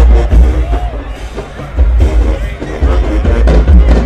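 Crowd cheering and noise at a Jackson State versus Texas Southern marching band show, a loud, dense roar with bangs and brass fragments swelling throughout.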